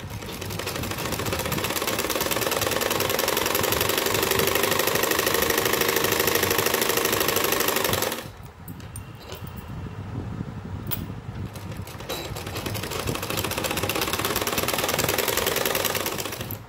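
A sewing machine stitches blouse fabric with a steady, loud mechanical whir that runs continuously, pauses briefly around the middle with a quieter stretch, then resumes at full pace.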